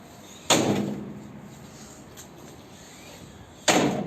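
A door on a modified 4x4 rear bumper slams shut twice, two sharp metallic thuds about three seconds apart with a short ringing decay, over quiet background hiss.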